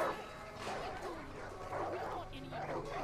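A dog barks several times in the video game Far Cry 5, short yipping barks at moderate volume mixed with game ambience and someone talking.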